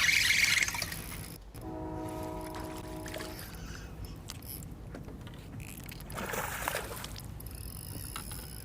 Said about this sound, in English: That's so awesome to hear the air horn from a train when you hook up.